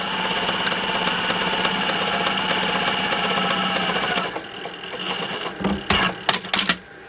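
A sewing machine stitches a decorative zigzag onto fabric quilted to batting, a steady fast mechanical whir running continuously before stopping, followed by a few scattered clicks and handling knocks.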